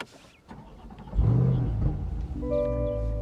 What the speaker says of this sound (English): Starting the vehicle up, you can see the start-stop button is right here where you'd expect it to be.